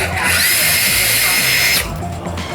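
A Bosch Profactor cordless drill whines loudly at high speed for under two seconds, then stops abruptly, leaving room noise and faint talk.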